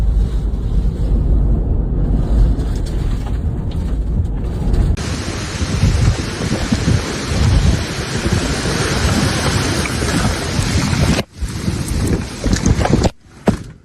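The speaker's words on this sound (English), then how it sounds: "wind speeds strong enough to cause significant damage, making this one of the most intense summer storms to hit Ontario this season" Violent summer thunderstorm winds in Ontario, Canada roar loudly and steadily against the microphone, with heavy gusts rushing for the whole stretch and no voices.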